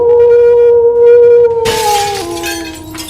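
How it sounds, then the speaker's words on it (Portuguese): Window glass of a house shatters with a loud, bright crash and scattering tinkle, following a long sustained howl, with the howl continuing lower beneath the breaking glass. "os vidros da janela da casa se estilhaçaram"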